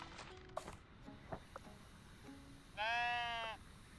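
In the video game Tiny Glade, a single sheep lets out one clear bleat lasting under a second, after a few faint clicks and a quiet ambient background.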